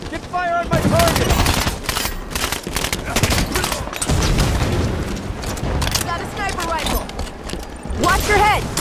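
Dense rapid gunfire and explosions fill a Halo multiplayer skirmish, with bursts of automatic weapons, booms and sci-fi weapon whines layered under game voice callouts.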